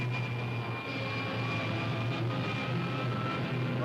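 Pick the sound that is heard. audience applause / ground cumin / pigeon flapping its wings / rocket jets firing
rocket jets firing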